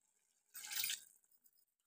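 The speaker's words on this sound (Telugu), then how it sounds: "ఒక గ్లాస్ వాటర్ అయితే వేసాను" A glass of water splashes into a pan of brinjal and raw dal curry in one short, faint pour of about half a second, with near-silence before and after.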